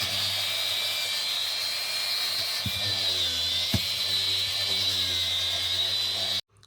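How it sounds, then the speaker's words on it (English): A wire wheel grinds steadily along a car's underside while prepping it for subframe connectors, a continuous close whine with a couple of brief knocks, running alone until it stops abruptly near the end. "we got our grinding done, and this is kind of why I like using the wire wheel"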